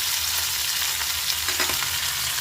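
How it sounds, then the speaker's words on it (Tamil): Mustard seeds, three dried red chillies and curry leaves sizzle and crackle steadily in hot oil for a Tamil gooseberry rasam tempering, a close, continuous frying hiss with faint pops. "எண்ணெய் சூட வச்சு கடுகு, ஒரு 3 வரமிளகாய், கருவேப்பிலை"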